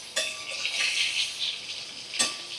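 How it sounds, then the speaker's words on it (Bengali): Eggplant slices seasoned with turmeric frying in a pan over medium flame, a continuous close sizzle with a couple of brief clinks from a utensil against the pan. "এক সাইডটা ভাজা হয়ে গেলে আমি উল্টে আর এক সাইডটা ভালো করে ভাজা করে নেব।"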